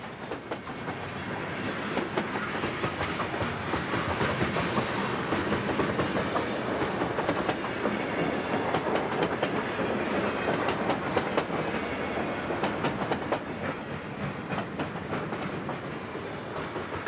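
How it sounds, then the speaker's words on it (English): Long, heavy eastbound manifest freight train on a steep high mountain mainline beside the Eagle River, rumbling past close by for a sustained stretch with rhythmic clickety-clack of wheels over rail joints, no talking. "This train is also very long and heavy, and they'll use every ounce of power to accelerate it past us in a few moments."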